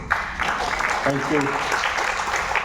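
Applause from a lecture audience greeting a speaker arriving for an aromatherapy session, steady, dense clapping throughout with voices talking over it partway.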